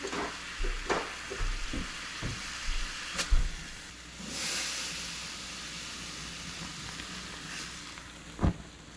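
Butter foams and sizzles in a hot pan while cooking an invasive plant into snacks, a steady soft hiss under a few scattered clunks and taps, with one brief swell of fizzing near the middle.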